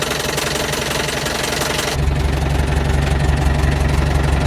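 A lorry's diesel engine idles steadily just after starting, warming up with a loud, even knocking rumble that deepens partway through and continues without any talk.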